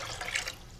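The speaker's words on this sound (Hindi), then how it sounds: "इसमें हमने जो 6 गिलास पानी था वो हम इसमें ऐड करने लगे" Water pours from glasses into a cooking pot set on the stove, the start of a chicken yakhni broth; a short, fairly quiet splash and gurgle of liquid with no talking.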